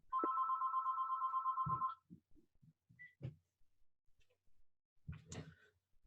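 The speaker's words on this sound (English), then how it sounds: "oh, sorry, that's my phone." A phone in a home rings once with a steady electronic tone that lasts under two seconds. Soft clicks and knocks follow, then a brief rustle near the end.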